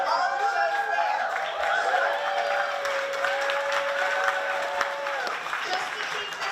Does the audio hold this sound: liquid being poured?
no